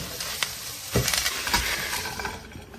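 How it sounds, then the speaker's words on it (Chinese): Chili peppers tossed in a hot, dry wok with no oil give crackling scrapes and rustles, with a few sharper clattering strokes of the spatula in quick succession, close and alone. "锅热下入辣椒，给它不停的翻炒"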